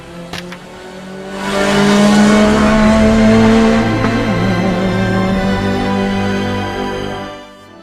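A Group S WRC rally car engine roars loudly up close, swelling as it revs hard and holding a sustained high-pitched howl for several seconds before easing off, with no talk.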